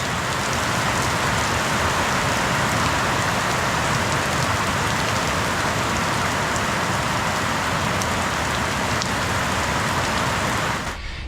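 Heavy rain pours down steadily and loudly for the whole stretch, a dense, unbroken broadband hiss of drops drumming on surfaces close by, with no voices over it.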